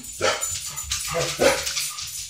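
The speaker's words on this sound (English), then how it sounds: "Sorry, that's my dog." A dog barks indoors, three sharp separate barks spaced about half a second apart, fairly close and loud against a quiet room.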